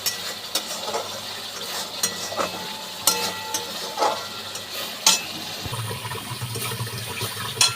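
Fried pointed gourd pieces tipped into a pan of cooked-down spice masala and stirred, a soft sizzle under repeated scraping and knocking strokes, close by and moderately loud.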